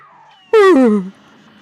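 A cat boss in the Cuphead video game lets out one loud, close meow, rising and then sliding down, standing alone.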